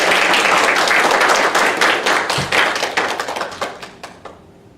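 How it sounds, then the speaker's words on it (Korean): A church congregation applauds its choir with dense, brisk clapping that thins into scattered claps and fades out over several seconds. "우리 찬양대에게 다시 한번 격려와 또 감사의 박수를 드립니다"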